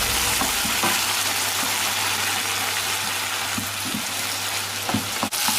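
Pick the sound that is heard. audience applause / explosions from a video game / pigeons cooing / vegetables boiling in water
vegetables boiling in water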